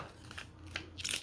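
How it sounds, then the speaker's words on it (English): Close scissors snips cutting open a package, one crunchy cut near the start and a sharper, brighter cut at the end, with faint rustling between. "I'm just going to go ahead and cut this"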